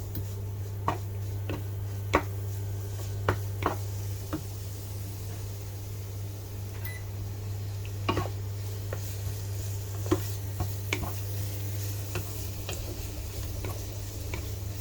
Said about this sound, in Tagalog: dahil luto na dati yung sibuyas natin, ilalagay na natin yung bawang